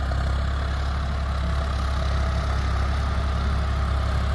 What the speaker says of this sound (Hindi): ट्रैक्टर बिल्कुल लोड फ्री चल रहा है